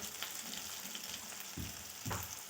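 Red chilli powder and turmeric sizzling in oil in a pan with softened tomato, a soft steady fry close by, broken by a couple of brief low stirring thumps.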